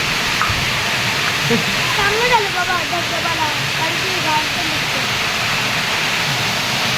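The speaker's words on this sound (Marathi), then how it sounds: "असा पाऊस संध्याकाळी साडेचारला लागतो" Steady heavy rush of pouring unseasonal rain and water running down steps fills the scene, with a voice speaking over it.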